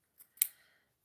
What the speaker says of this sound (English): I'm going to come along with my little duckbills and I'm just going to trim that off a little